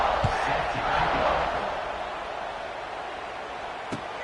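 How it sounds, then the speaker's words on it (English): A stadium crowd in an American football video game keeps up a broad, steady roar of cheering, louder at first and then settling into a sustained wash with a faint thump near the end. "this crowd is feeling themselves after that last drive"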